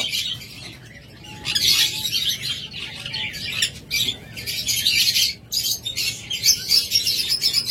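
A pair of olive opaline budgerigars in a cage chirp and squawk almost nonstop, bright and close, in busy overlapping bursts with a low background hum.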